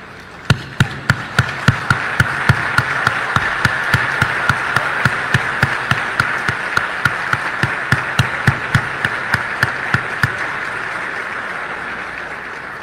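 Audience at a political address clapping in unison: a steady rhythmic beat of sharp, loud claps over a crowd murmur, fading out near the end.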